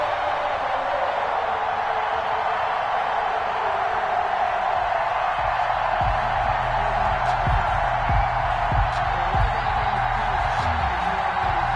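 Steady roar of a stadium crowd in an NFL video game, Kansas City Chiefs against Tampa Bay Buccaneers, a continuous wash of noise with faint cheering and low thumps underneath.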